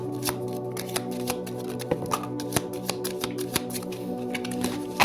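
Tarot cards being shuffled close up, a steady run of crisp riffling snaps and soft papery slaps with a few sharper clicks, under a constant low background hum and no talk.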